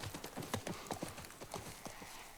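A horse's hooves clip-clop at a brisk, steady walk in The Last of Us Part 1 game, a run of crisp, evenly spaced hoofbeats heard alone at a quiet level.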